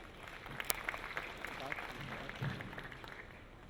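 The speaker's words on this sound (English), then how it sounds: "Please, a round of applause as we receive him." Audience applause welcoming a senator at a citizens summit: steady, moderately faint clapping from a seated crowd spread across the whole moment, with a few sharper hand claps standing out, no talk over it.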